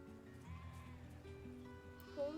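Sheep bleating in a video game trailer, a few wavering bleats woven through a steady tonal backdrop, fairly close and continuous for a couple of seconds.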